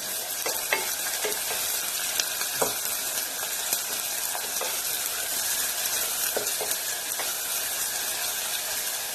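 Finely chopped onion frying in oil for green tomato biryani, stirred with a utensil: a steady close sizzle with scattered scraping taps from the stirring, and no talking.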